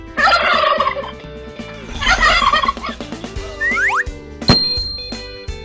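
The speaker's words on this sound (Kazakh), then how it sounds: "күркет тауық" A turkey gobbles loudly in two rapid rattling bursts, close and clear over a light musical backing with bell-like tones.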